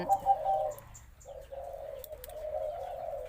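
Spotted dove giving a deep, resonant three-note coo call, close and clear, with low sustained hoots following one another and faint chirps behind.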